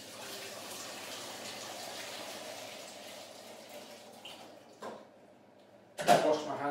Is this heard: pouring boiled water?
yes